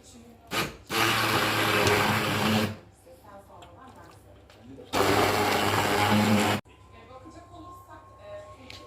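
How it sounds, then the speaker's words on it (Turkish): A blender purees roasted pumpkin, whirring loudly in two bursts of a few seconds each, with quieter pauses between them. "Hemen şöyle bir blenderdan çekelim."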